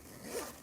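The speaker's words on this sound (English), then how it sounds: "It has a gorgeous zipper" A single short, soft zip as the zipper on a silk fabric case slides closed or open, faint and brief, with no voices.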